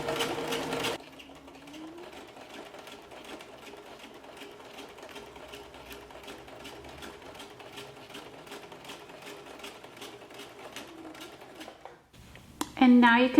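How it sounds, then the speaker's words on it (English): Domestic sewing machine running a steady stitching line along the inside edge of the presser foot on fabric for a patch pocket, a fast even rhythmic whir lasting several seconds, close and alone, briefly bracketed by other handling noises. "I'm gonna run this stitching line right on the inside of this presser foot right here"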